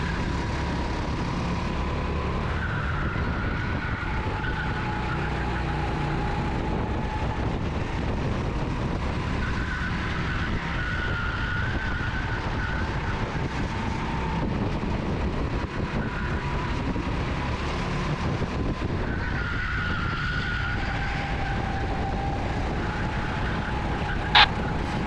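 Go-karts race around the PGP Motorsport Park track, a loud, continuous whining engine drone from close range whose pitch rises and falls with each acceleration and shift of speed, and no voices.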